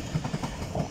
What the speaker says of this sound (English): Next train arriving is a linear service off to Edinburgh from London to King's